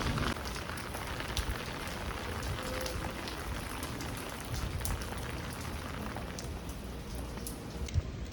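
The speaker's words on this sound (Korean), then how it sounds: "지금 비가 와가지고 영상을 제대로 찍을 수가 없어요" Steady rain falls throughout, a dense, even patter of drops with a few slightly louder spatters and no talking.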